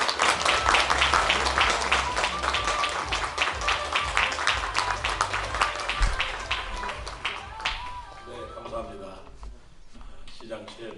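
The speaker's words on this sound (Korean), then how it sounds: "큰 박수로 무대 위로 모시도록 하겠습니다" An audience at a book concert applauds as Sejong City's mayor is welcomed on stage, dense clapping that peaks early and then thins out toward the end, with voices talking over it.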